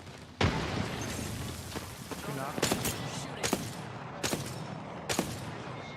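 Gunfire and grenade blasts from a firefight in the Apex Legends video game: one heavy explosive burst, then a dense, continuous battle rumble with repeated sharp shot cracks at irregular intervals, loud and close.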